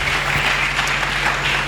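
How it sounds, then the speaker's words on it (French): A church congregation applauds together, a short burst of dense, steady clapping heard up close and fairly loud during a sermon. "Acclamons très fort pour le roi."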